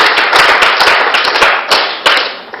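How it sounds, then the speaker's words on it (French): Applause and cheering from a crowd at a Chadian event, a dense burst of clapping with sharp individual claps standing out, loud and close, fading slightly toward the end. "je voudrais que nous puissions les encourager par nos acclamations"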